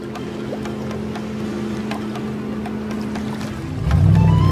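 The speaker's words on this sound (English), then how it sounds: "Full speed ahead! The ferry is sailing to the island." A cartoon ferry boat sails to an island, its engine a steady drone over lapping water that swells noticeably louder near the end.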